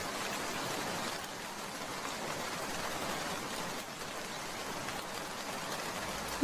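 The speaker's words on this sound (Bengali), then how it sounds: "মিতু, তাড়াতাড়ি করে ঘরে যা, এই বৃষ্টিতে ভিজে জ্বর আসবে তোর" Steady rain pours through a cartoon storm in a riverside village, a dense, even hiss of falling water that stays constant throughout with no voices.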